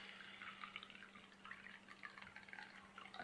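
Water is poured onto chickpeas in a kitchen, a soft, continuous splashing and trickling with faint irregular drips, quiet and close, with no voices.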